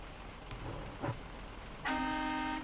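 In the video game SnowRunner, after some quiet background noise and faint rain, a single loud, steady truck horn blast sounds abruptly and holds to the end.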